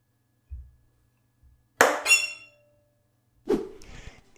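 An instrumental imitation of a mouse caught in a mousetrap gives a soft low thump, then a sharp snapping clack with a brief squealing squeak, a pause, and a rougher scraping squeak.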